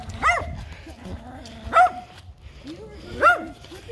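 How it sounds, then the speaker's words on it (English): Fluffy stray golden retriever barking outdoors, three loud close barks spaced about a second and a half apart, with quieter whimpering sounds between them. "Dog's being really annoying. Looks like a golden retriever."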